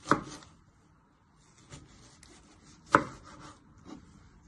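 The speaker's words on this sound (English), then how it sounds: "And then just chopping them." Sharp knife chops through tomatoes on a cutting board, a few spaced strikes with quiet pauses between them, close and fairly soft.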